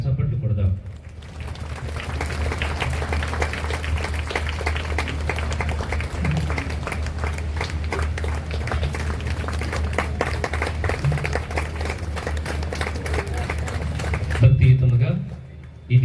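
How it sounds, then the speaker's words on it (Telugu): A church congregation claps loudly and continuously during a Marian festival Mass while a garland is placed on the statue of Mother Mary, a dense, steady applause lasting over ten seconds before trailing off. "అందరం గట్టిగా చప్పట్లు కొడదాం."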